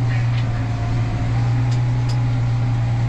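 A tractor drives into a field during stubble cultivation, a steady low engine drone at constant level with faint rattles and clatter on top, and no voices.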